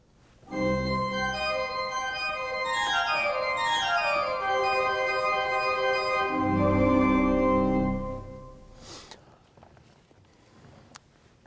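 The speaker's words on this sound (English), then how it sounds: "And the wind sounds like this." Sustained cathedral pipe organ chords swell and shift for about eight seconds, a dense drone with sliding tones, then fade out, leaving a faint airy hiss.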